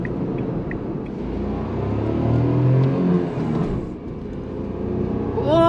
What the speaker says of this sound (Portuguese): Você escuta o barulho do motor, né?